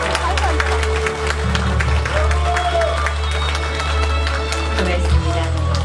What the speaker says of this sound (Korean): 박수로 환영해 주시고요.